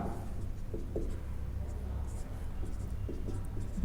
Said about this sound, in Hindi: तो क्या मैं लिख लेता हूं, प्रश्नानुसार